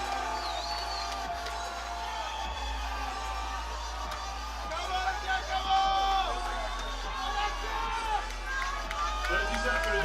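A big crowd at powerlifting championships roars and cheers for a 400 kilo deadlift, with sustained shouts and whoops rising toward the middle while a commentator talks over the noise.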